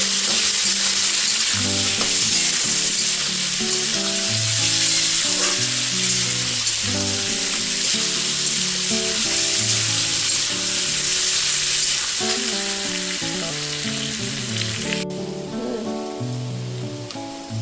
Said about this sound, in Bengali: তো একটু হলুদ দিয়ে দেবো। ভাজতে থাকবো।